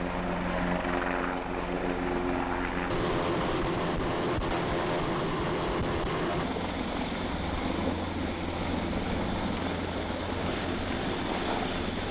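A rescue helicopter hovers, its rotor roar steady and loud throughout, shifting in tone partway as the whir of the blades and wash blend with a surf-like rush, with no voices.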